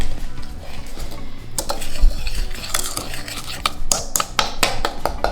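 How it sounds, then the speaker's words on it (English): Utensil stirring dry pumpkin pie ingredients, ground cinnamon and pumpkin spice among them, in a mixing bowl, giving close scraping and clinking in quick irregular strokes that grow busier toward the end, with no talk. "Now stir up your dry ingredients."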